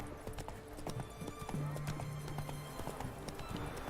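Horse hooves clip-clop in The Witcher 3: Wild Hunt, a quick, uneven run of near hoofbeats with a brief neigh partway through, over low background noise.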